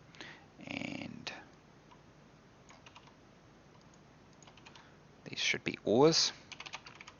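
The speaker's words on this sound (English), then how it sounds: "mashed the keyboard" Quiet bursts of rapid typing on a computer keyboard during a game development stream, with a brief spoken phrase before a louder flurry of key presses near the end.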